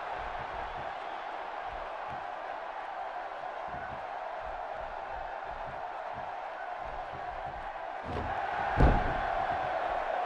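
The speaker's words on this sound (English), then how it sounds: "by the sound of this crowd, I think they're getting what they wanted" Virtual arena crowd in the WWE 2K16 wrestling game keeps up a constant roar, with a brief surge and a sharp slam-like hit near the end.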